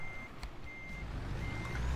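A truck reversing in the game American Truck Simulator, with its backup alarm sounding three evenly spaced electronic beeps over a low, steady engine rumble that grows slightly louder.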